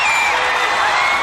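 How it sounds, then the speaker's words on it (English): Wrestling arena crowd cheering and roaring loudly and steadily at a WCW event in Jacksonville, a dense wall of voices with whoops rising over the din. "crowd is going nuts"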